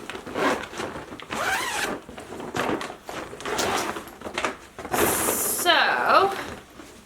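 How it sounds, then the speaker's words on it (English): The zipper on a garment bag used to carry clothing to vendor shows gives several rasping zipping strokes, close and fairly loud, and a voice speaks between them. "So, here's the Amazon bag zipped up."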